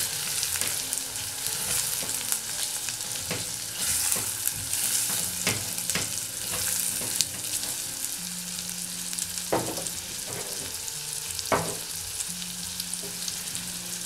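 Passion fruit pulp goes into a pan of sautéed onion for a sweet-and-sour sauce, frying with a constant loud sizzle and bubbling, broken by occasional scraping knocks of a spoon, close up and with no voices.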